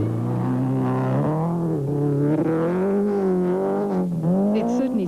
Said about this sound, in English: Reputedly, Daewoo's 16-valve motors produce more power than any other at the moment.